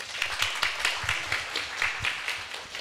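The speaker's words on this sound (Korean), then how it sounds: "여러분의 열렬한 환영과 박수 덕분에" A small book-talk audience claps to welcome the authors, a soft, fairly even run of hand claps that sounds somewhat distant and quiet, with no voices over it.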